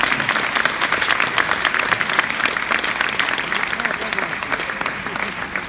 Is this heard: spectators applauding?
yes